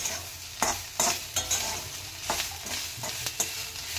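Onion fries in a little oil until it turns blackened and half-browned for a Khandeshi-style mutton dish, a soft sizzle punctuated by repeated clattering stir strokes at close range.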